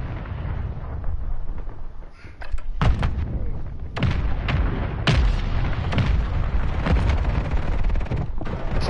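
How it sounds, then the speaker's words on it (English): Grenade explosions in a battle royale video game: a series of loud, booming blasts, several sharp bursts spaced a second or so apart over a constant rumbling background, with no talk. "These fucking grenades are so brutal, dude"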